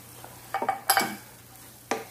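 Shallots and garlic are stirred in a pan with a spatula, giving a few close scraping clinks over a faint background hiss.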